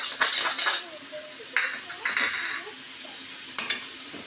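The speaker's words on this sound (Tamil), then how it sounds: "நல்லா பிரட்டி விட்டுக்கிடுவோம்" Spoon scraping and clinking in a pan while ground coconut, green chili and cumin are stirred in for a flat bean stir-fry, in several short bursts of metallic scraping with pauses between, close and fairly loud.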